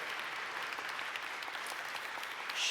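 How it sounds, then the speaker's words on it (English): Audience applause at a Sunday service fills the room as a steady wash of hand clapping, fairly distant and even in level, with no talk over it. "So before I even invite her up, let's give a round of applause to Veronica Vera Cottingham, our convener."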